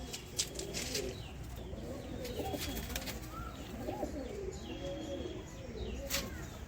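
Andhra pigeons in a loft give repeated low, rolling coos that overlap one another at moderate volume, with a few sharp clicks and faint chirps mixed into a steady background.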